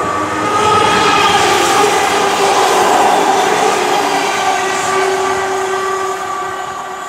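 A train rumbles loudly past at close range at Selly Oak railway station in Birmingham, a continuous grinding roar with tonal horn-like notes that eases off toward the end.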